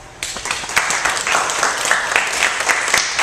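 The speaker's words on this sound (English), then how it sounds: "So right now, I'd like you to give yourselves a round of applause." Convention crowd bursts into loud applause, dense continuous clapping starting abruptly and holding strong throughout, close and full.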